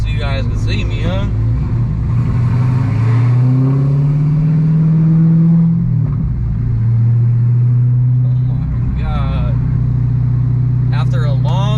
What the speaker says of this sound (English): After a long 8 months, I finally hear the supercharger again.